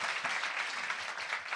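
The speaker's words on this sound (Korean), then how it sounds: "여러분 박수 한번 좀 부탁드리겠습니다." Audience applause at a Korean talk show, a steady dense wash of clapping that fills the short stretch without a break, fairly even in loudness.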